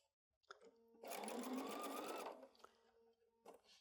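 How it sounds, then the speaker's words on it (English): A sewing machine stitches quilt fabric for an I Spy quilt in one close, steady burst of rapid mechanical whirring lasting over a second, framed by soft clicks before and after. "as I start to sew, I'm going to sew slowly"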